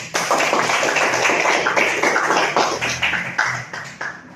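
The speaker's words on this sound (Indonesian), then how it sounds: "Boleh, bagus, tepuk tangan." A class of students claps together in a classroom after a physics presentation. The close, dense clapping runs steadily for a few seconds before thinning out.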